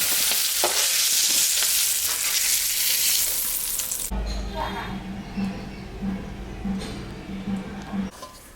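Green chilli and black cumin crackle in hot oil as a tempering for a prawn and water spinach dish, a loud steady sizzle that drops abruptly halfway to a quieter fry under a low humming tone and soft clinks.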